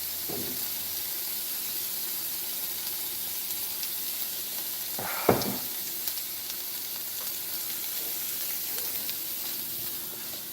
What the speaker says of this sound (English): The sizzle's good.